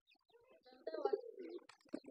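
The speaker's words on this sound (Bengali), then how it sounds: "দুইটা কবুতর আছে, দুইটা।" Soft, brief cooing from a pair of domestic pigeons, one of them black, of the local jalali or desi type, a low murmuring call swelling near the middle of a short quiet stretch.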